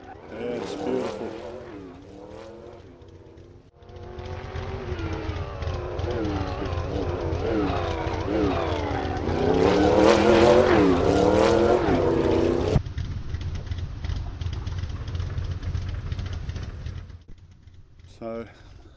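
Supercharged race car engine in the Assetto Corsa racing game, rising through revs with whining harmonics, peaking loud, then cutting back to a steady drone before dropping away, with a brief blip at the end.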